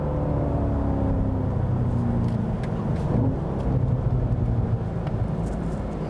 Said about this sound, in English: The rev matching is nice.